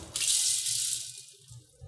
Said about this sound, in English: you just want to plunge them right into some cold water just to stop the cooking